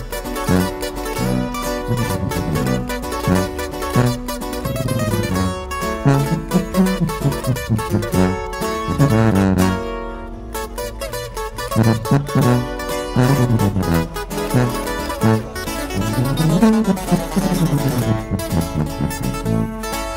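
An unreleased corrido plays continuously through a speaker at a car show in the Bay Area, with full band instrumentation and sung vocals, loud and steady throughout.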